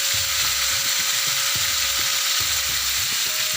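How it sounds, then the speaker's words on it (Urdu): Minced meat (keema) sizzles and fries in hot oil with whole spices and whole red chillies, a steady close crackle with repeated soft stirring scrapes at an uneven rhythm. "اس کو اب ہم فرائی کریں گے۔ اب ہم اپنا قیمہ ڈال دیں گے اس کے اندر"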